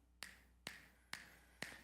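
Four crisp finger snaps spaced about half a second apart, close and clear against a quiet background, with no talking.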